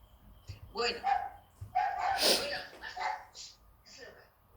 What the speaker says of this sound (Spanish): les dije que vivo con 3 perritos acá en casa.